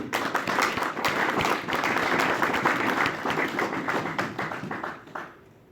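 A church congregation claps together in a steady, lively rhythm for several seconds before the applause thins out and fades away.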